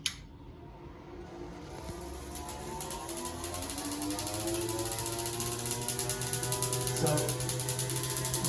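A Van de Graaff generator throws corona sparks onto a screwdriver blade held near it, making a steady crackling, ratchet-like buzz over a constant electrical hum. The sound grows slightly louder, and one brief word is spoken near the start.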